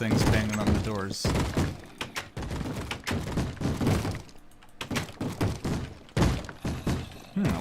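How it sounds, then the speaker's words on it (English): Mobs pound against doors in Minecraft's Sky Factory modpack, giving repeated heavy thunks and cracking knocks at an uneven pace, mixed in with someone speaking throughout. "got things banging on the doors."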